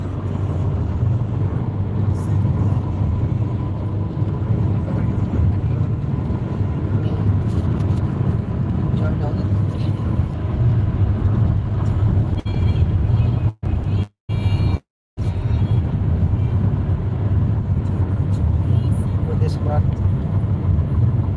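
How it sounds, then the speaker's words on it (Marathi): A car cruises at 100 km/h on the Samruddhi Mahamarg expressway, giving a steady low road and engine rumble inside the cabin, with someone talking over it and a few brief dropouts. "शंभरच्या स्पीडे गाडी चालली"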